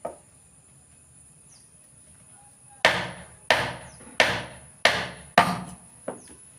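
Wood for a kavadi frame is cut by hand with blows from a chisel, five sharp whacks at an even rhythm and then a lighter sixth one. Each strike is close and rings briefly over a faint background hum.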